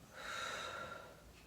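One sustained, airy exhale through the mouth during a guided stretching breathing exercise, close and moderately loud for about a second before tailing off, with no talk.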